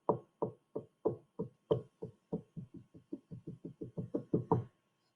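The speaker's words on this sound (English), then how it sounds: "they heard a heavy tapping on the roof" A series of heavy, regular knocks of rain on a roof, about twenty in quick succession, some louder than others, with no voices.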